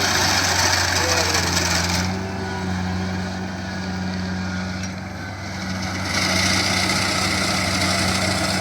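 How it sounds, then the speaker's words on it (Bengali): A combine harvester cutting a rice paddy drones steadily close by, a continuous loud engine hum with a low, even pitch that dips slightly midway, with no clear talking. "দেখেন এই হচ্ছে মেশিন, এই মেশিন দিয়ে কাটতেছে।"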